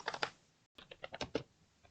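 Computer keyboard keys tapped in short bursts of close clicks, a cluster of quick strokes, a brief pause, then another run of separate keypresses while entering code, with no talking.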